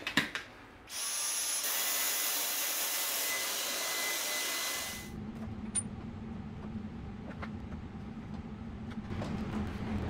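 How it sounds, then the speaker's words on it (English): Dyson vacuum cleaner running in a woodworking shop, a loud whining roar that starts abruptly, holds steady for about four seconds, then winds down into a lower hum with scattered small clicks and knocks. "I'm not really supposed to use a Dyson vacuum cleaner for this kind of shop work"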